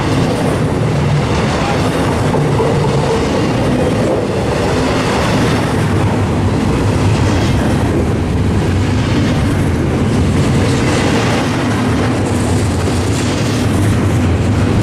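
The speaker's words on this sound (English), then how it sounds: "end of the train's coming. It's not a huge stack." A long freight train rolls past close by at Tehachapi, California, a loud continuous rumble with rhythmic wheel clatter on the rails.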